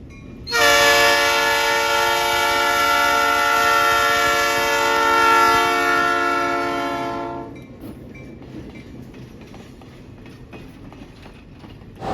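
Florida Railroad Museum locomotive 204 sounds a long, loud, steady horn blast at a Dickey Road crossing, then its cars rattle and clack past as the horn cuts off.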